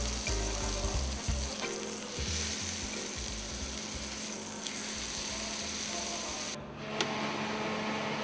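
Meat fries in a pan for sous vide cooking, a steady close sizzle and crackle with some low clattering stirring or handling noises, no talk.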